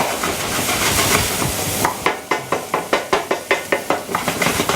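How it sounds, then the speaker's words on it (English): Vegetables sweat in a pan with a hissing sizzle, and a wooden spoon moves them around in a run of regular knocking strokes against the pan, close and fairly loud. "that's why I'm keeping moving the pan. Moving the wooden spoon around."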